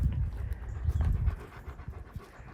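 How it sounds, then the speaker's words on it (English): Fern the dog pants close by in quick, rhythmic breaths, low and soft, with some rustling and no speech. "Oh, I hear panting."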